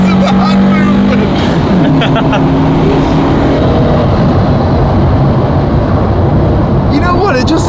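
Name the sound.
Japanese import car engine revving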